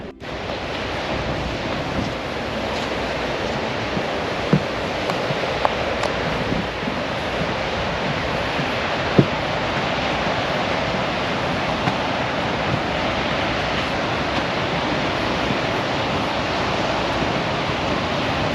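Surf rolls steadily onto a small beach at Inverness, Nova Scotia, a continuous loud wash of breaking waves mixed with wind buffeting the microphone, with no voices.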